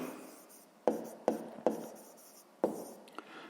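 Pen or pencil writing out a math solution on paper: four or five distinct scratchy strokes, each starting sharply and trailing off, close and quiet with pauses between.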